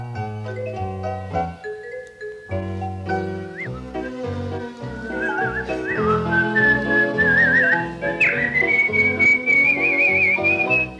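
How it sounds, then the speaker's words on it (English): Someone whistles a lively melody over instrumental music, the whistled notes rising and trilling clearly above the accompaniment. "Can you whistle us a tune?"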